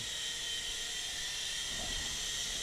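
An Audely Storm Eagle RC helicopter hovers and flies around a room indoors, its small rotor and motor giving a steady, even high-pitched whine with a faint hiss, close by and unbroken throughout.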